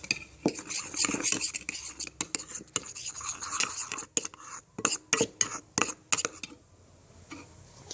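Homemade slime mixture gets stirred with a utensil in a bowl, giving close, irregular scraping and clinking strokes that come in quick bursts and thin out near the end.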